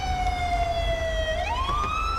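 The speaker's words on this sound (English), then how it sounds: "I'm just going to mute my siren real quick." A police siren wails from an unmarked 2013 Chevy Tahoe gang-unit vehicle in GTA 5, one clear electronic tone sliding down and then rising again, loud and close over a low engine rumble.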